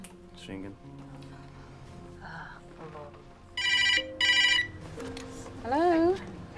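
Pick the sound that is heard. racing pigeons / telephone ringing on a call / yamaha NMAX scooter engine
telephone ringing on a call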